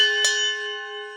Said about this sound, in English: I've found a ship's bell and that is going to be my doorbell